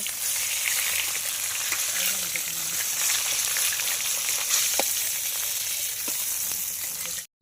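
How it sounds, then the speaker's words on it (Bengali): Bhetki fish heads frying in hot oil, a loud, dense, continuous sizzle close by that runs steadily for several seconds before cutting off abruptly. "মাথাটা লাল লাল করে ভেজে নিয়েছি"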